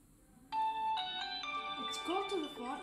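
A phone rings with a synthetic melodic ringtone, triggered by a child safety car alert system's danger call; the tone is steady and fairly loud at close range, with a voice audible underneath.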